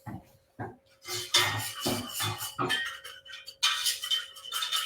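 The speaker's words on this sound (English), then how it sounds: "Keep whisking it or it'll catch on the pan." A whisk clinks and scrapes rhythmically against a pan as milk is whisked into a sauce, in short irregular bursts that are close and fairly quiet.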